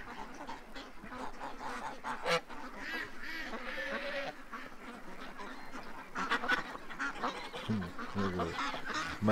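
Geese honk in a dense, overlapping chorus, with ducklike calls mixed in and steady outdoor noise underneath, the honks spiking louder at moments throughout.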